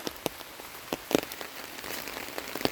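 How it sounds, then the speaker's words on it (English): Rain falling outdoors on a nature walk near a field, with scattered raindrops pattering on surfaces over a soft steady hiss, and no talking. "then the second rain has come"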